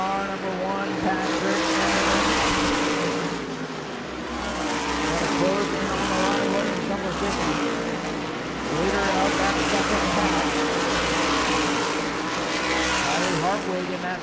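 Race cars roar around the New Smyrna oval in a dense pack, engines droning loudly and continuously with swelling passes and occasional tire squeal, under an announcer's running commentary.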